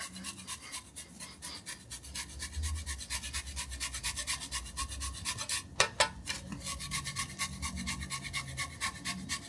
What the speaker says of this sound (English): First of all, we grate some pecorino on there.